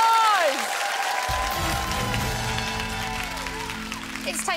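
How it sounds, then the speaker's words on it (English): Applause for the contestants on a school quiz show, clapping and a bit of cheering that starts loud and then thins out under a music sting and a sliding tone, with voices mixed in. "Give them all a round of applause."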